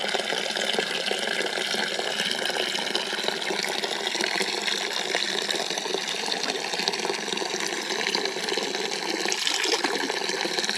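Water runs steadily from an old well out in a forest ghost town, a continuous close rushing and splashing flow that holds the same level throughout with no voices.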